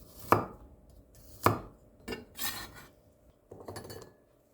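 Two crisp knife strikes on a cutting board as garlic cloves are chopped, each a sharp isolated thwack, then softer scraping and a couple of quieter cuts, close and alone.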